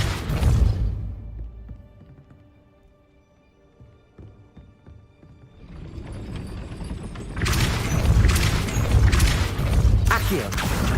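A Depulso repelling spell cast in the Hogwarts Legacy video game: after a quiet stretch with faint rumbles, a loud burst of magical whooshing and crashing clatter builds and lasts several seconds over the game's background.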